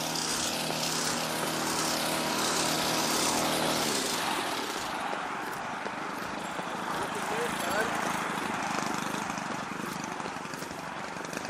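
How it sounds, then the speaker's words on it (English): A hedge trimmer buzzes steadily a short distance away in an outdoor street setting, a continuous droning motor that changes tone partway through, mixed with passing ambient noise. "Guys trimming the hedge."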